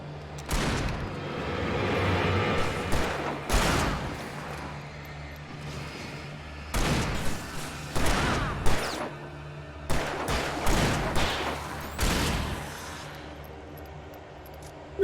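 Gunshots crack through Alan Wake Remastered, a thriller video game, in scattered loud shots and quick clusters with pauses between them, over a low rumbling background hum.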